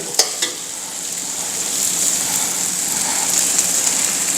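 Tomatoes sauté in a pan for a Chettinad meat curry, a steady close sizzle and hiss with a couple of sharp stirring knocks at the start, no voices.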